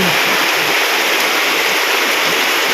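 Heavy rain pours down during flooding in a rural mountain area, producing a loud, dense and constant wash of noise with no talk.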